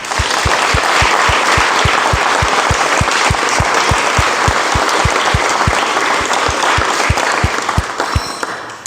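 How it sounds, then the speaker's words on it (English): A large audience at a kirtan darbar gives loud, sustained applause for the Sikh society members and event volunteers, with a rhythmic clapping beat running steadily under the broad wash of hands. "So a huge applause to all the members of the Sikh society"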